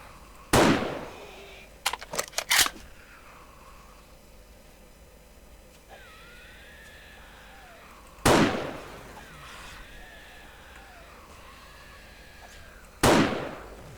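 Sniper rifle shots in the 7 Days To Die video game, three loud sharp cracks spaced several seconds apart, with a quick cluster of smaller pops early on and quiet game ambience between.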